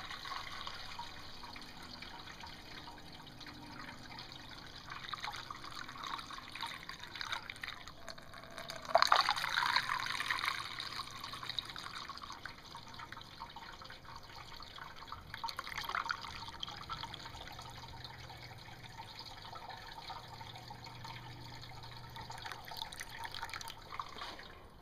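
Water gurgling and trickling as a hose fills the heater core hoses of a vehicle's cooling system, a steady wet rush that swells loudly for a couple of seconds midway, then settles back to a continuous gurgle.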